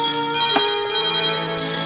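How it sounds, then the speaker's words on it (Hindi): A telephone rings in a Hindi-dubbed South Indian action film, a sustained bell-like tone that stays bright and steady throughout the short clip, with no voices. "सर, फोन की घंटी।"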